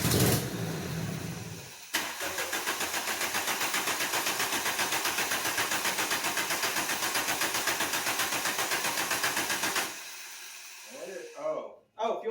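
A VW ABA 16-valve turbo engine fitted with a GM 3-bar MAP sensor cranks briefly, then catches and runs at a rough, pulsing idle for about eight seconds before cutting out, with people talking at the end.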